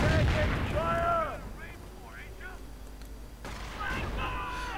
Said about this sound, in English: Incoming gunfire.